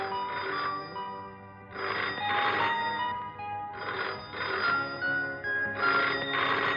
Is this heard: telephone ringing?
yes